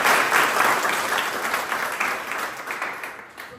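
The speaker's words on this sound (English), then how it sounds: "So a round of applause please for the team." Applause for the team at a group closing ceremony, a close, full burst of many hands clapping that swells at the start and slowly tapers over a few seconds.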